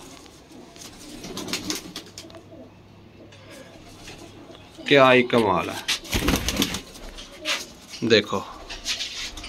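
Pigeons coo softly in the background while someone talks over them at close range, with a brief clearer burst of bird calling in the middle.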